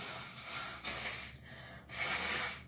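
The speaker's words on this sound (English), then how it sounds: "Sorry, I blow my nose." Someone blows their nose in two forceful, wet bursts with a short pause between, close to the mic.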